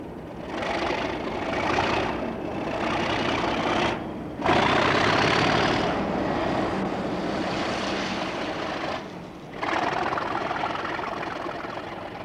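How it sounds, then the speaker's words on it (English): A British Rail Class 37 diesel locomotive slips its wheels in a rail yard, giving a loud, sustained engine roar that surges and briefly drops twice before returning at full strength. "Brace yourselves for a little bit of wheel slip."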